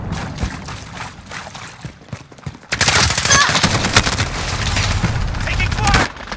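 Gunfire crackles in a Modern Warfare match, starting with scattered shots and then breaking into a loud, dense burst of rapid automatic fire that lasts several seconds before cutting off abruptly.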